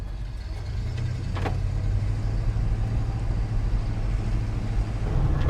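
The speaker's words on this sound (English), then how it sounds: "Let's go in this 1985 Ford F150 XLT Lariat and see how she drives" A 1985 Ford F150 XLT Lariat long bed with the high output 351 engine drives along with a steady, moderately loud low hum and road noise. Faint clicks break in now and then, and nobody talks.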